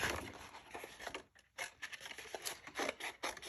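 Scissors snip and slide through paper to trim a flap on a mini candy cane box, making quiet, close rustling cuts in short uneven strokes with a brief pause midway.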